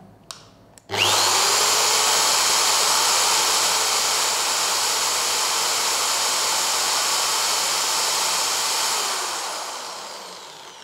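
A 220-watt RYU RDR10 corded electric drill is switched on and spins at full speed with a loud, steady high-pitched whine, held for about eight seconds before winding down, close up and without talk.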